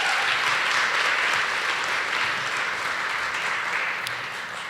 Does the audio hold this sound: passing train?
no